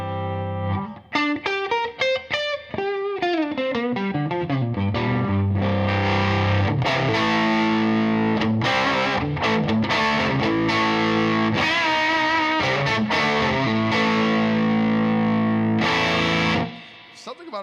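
Distorted electric guitar played through a low-wattage amp turned up: crunchy, saturated notes and chords, with bends and sustained lines, loud and continuous throughout with a brief drop near the end.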